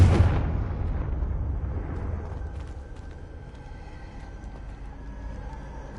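Confringo blasting spell from Hogwarts Legacy: a loud, sudden boom at the start with a deep rumbling decay that fades into a lower, steady rumble over several seconds, no voices.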